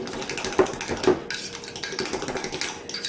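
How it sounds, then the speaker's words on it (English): A spoon stirs and scrapes through a dry mix of garlic powder, onion powder, parsley flakes, black pepper and salt in a dish, producing quick clinking taps and rhythmic scraping close by. "Stir this up real good."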